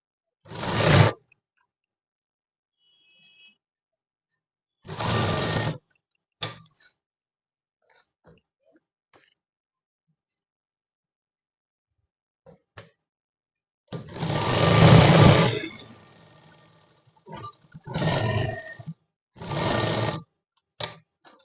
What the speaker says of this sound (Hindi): अब यहाँ से ऐसे फोल्ड करके यहाँ पर भी सिलाई लगानी है इसी तरीके से।